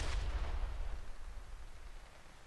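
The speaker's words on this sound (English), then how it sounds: "this is an armor-piercing EMP high explosive shell" An armor-piercing EMP high explosive shell fired in From the Depths, a single heavy deep boom at the start that rolls off into a low rumbling decay, alone without talk.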